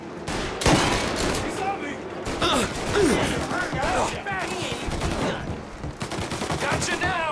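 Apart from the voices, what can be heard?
Tommy gun gunfire in video game Mafia remake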